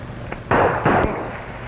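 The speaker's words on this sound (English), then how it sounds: "When we hear the explosion, we'll start moving in." Wartime ammunition supply blowing up in a 1935 Marines adventure serial: two heavy explosive blasts close together, a faint pop just before, then a fading rumble.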